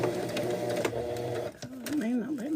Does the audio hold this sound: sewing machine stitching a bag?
yes